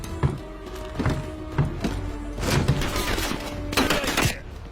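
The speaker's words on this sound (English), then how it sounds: "So here we've got the Dushka, or DSHK, probably a DSHK M, slightly more modernized version. Vehicle mounted, which they often are." A vehicle-mounted DShK heavy machine gun fires in Call of Duty: Black Ops Cold War, with heavy thumping shots in uneven bursts and clusters. They sit over a dense layer of battle noise and play without speech.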